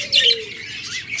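Caged birds for sale, budgerigars or doves, give a couple of brief high chirps up close, with no voices over them.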